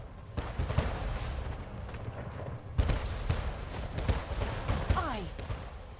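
Heavy cannon fire from warships in the strategy video game Anno 1800: repeated booming blasts in an overlapping, irregular barrage, with sharp whistling shots cutting through near the end.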